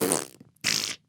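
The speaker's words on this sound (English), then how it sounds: "It's fart soundboard" A podcast soundboard fart noise: two short, loud, buzzy blasts separated by a brief gap, standing alone with no talk over them.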